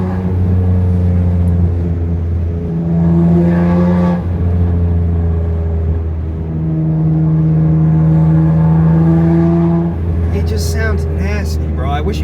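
A tuned, catless 600 hp BMW X3M with the S58 engine pulls hard through rising revs, its drone climbing and dropping between gear changes, loud from inside the cabin, ending with a crackle.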